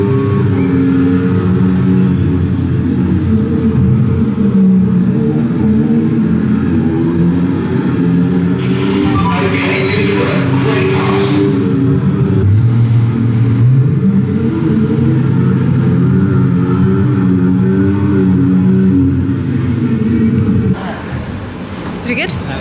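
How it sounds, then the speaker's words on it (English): A full-motion racing simulator's car engine drones and revs steadily throughout, rising and falling in pitch, with people talking over it before it drops off near the end. "That's probably the best racing simulator I've ever been on."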